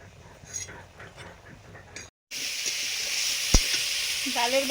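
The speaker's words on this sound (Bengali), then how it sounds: "ডালের বড়া ভাজার পরে কুমড়ো আর পেঁপে একসঙ্গে ভেজে নিচ্ছি" Pumpkin and papaya pieces fry together in a pan with oil, a steady close sizzle that starts abruptly after a quieter stretch of kitchen clatter and faint voices, with a sharp metallic clink partway through.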